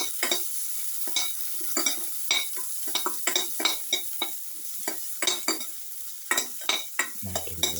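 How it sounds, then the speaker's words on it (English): Cashews and raisins frying in oil in a pan while being stirred, giving a steady sizzle broken by repeated scraping strokes of a spoon across the pan, fairly close and with no talking. "Until the raisins become puffed and the cashew becomes brown. Keep on stirring."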